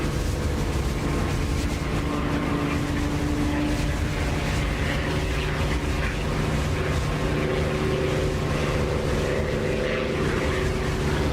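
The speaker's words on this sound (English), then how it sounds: "you hear that reflected sound of the engine, so the engine sounds a bit louder" An aircraft engine in the DCS flight simulator game drones steadily and loudly with a constant propeller hum and engine tone, unbroken and alone.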